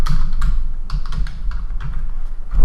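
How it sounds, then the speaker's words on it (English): Steady, close typing on a computer keyboard, a dense run of clicky keystrokes over a couple of seconds with no voice. "you can go in and type in"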